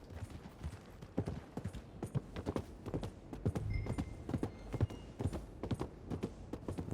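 A galloping horse in the Western video game Red Dead Redemption 2 pounds out rapid, rhythmic hoof clip-clops close by, steady and fairly loud over faint background noise, with little talking.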